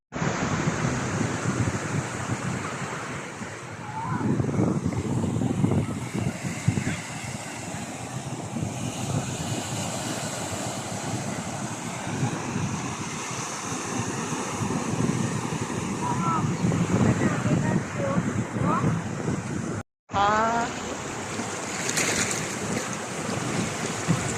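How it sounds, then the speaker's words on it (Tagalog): Waves surge and wash steadily onto the beach at Long Ke Wan, Sai Kung, Hong Kong, stirred up by a passing ship, with wind buffeting the microphone throughout and a brief dropout near the end. "malakas yung alon kasi may barkong dumaan"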